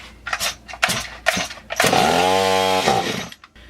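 A Stihl MS360 chainsaw engine pops and catches after being rebuilt, with a few sharp pull-start sounds before the engine fires and runs loudly for about a second before dropping off.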